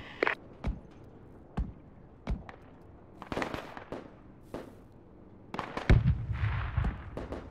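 Artillery and gunfire in a Project Reality battle, with several sharp distant bangs spaced through the scene and a heavier, louder blast with rumbling tail near the end, over faint background movement.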